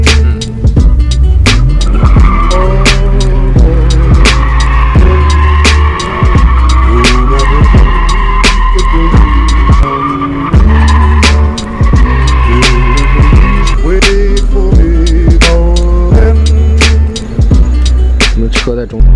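A BMW E46 M3 drifting, its engine roaring loudly and close while the tires squeal continuously, with revs surging and falling and sharp clicks and bangs, sustained for the full stretch.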